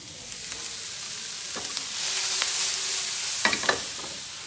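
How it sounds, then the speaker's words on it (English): Onion hits a hot frying pan with a rising hiss that swells into a steady sizzle, broken by a few clinks and scrapes as it is stirred, close and fairly loud with no talking. "let me get the onion in there and show you"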